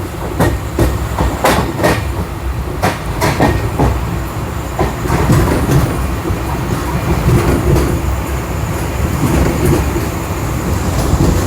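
Netravati Express running near Madgaon Junction, heard from inside the coach: a loud continuous rumble with rhythmic wheel clicks and sharp clatters over rail joints throughout.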